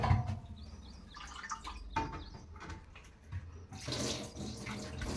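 Water splashing and sloshing inside an old clay water pot being rinsed out, with a steady close wash of pouring and swirling water that swells louder near the end.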